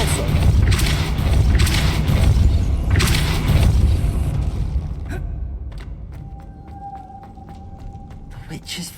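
A Depulso force-push spell cast in the Hogwarts Legacy video game lets out several loud whooshing bursts over a deep rumble. Quieter clicks and a thin sustained tone follow as the effect fades.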